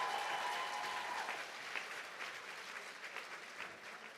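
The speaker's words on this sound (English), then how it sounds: "Is that how you clap for him?" An audience at the ASCA 2022 awards event claps steadily for a legendary honoree, a dense sustained patter of many hands at moderate level that thins slightly toward the end, with no voices over it.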